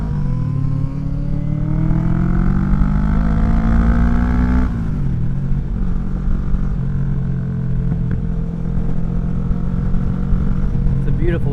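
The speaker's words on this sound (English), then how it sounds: "Got some nice sport bikes up here. Sport bikes look amazing, and they sound pretty amazing too," Sport motorcycles ride past outdoors on a nice day, loud engine drone with rising and falling pitch as they pass close by and fade, with a shift partway through and steady road noise.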